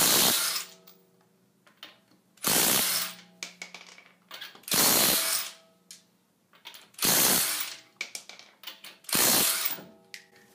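A cordless drill driving a 1/2 inch adapter and impact socket to remove wheel rim nuts, five loud, evenly spaced bursts of rapid ratcheting hammering, each about a second long, separated by short quiet pauses.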